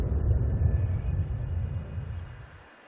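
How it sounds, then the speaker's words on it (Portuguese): Jet airplane arriving at an airport in the SimAirport management game, a loud low engine rumble that holds steady and then fades out over about three seconds. "Tem um avião chegando."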